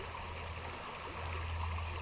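Fast, shallow water flowing in a Kentucky creek, a steady close rushing and trickling wash with no talking.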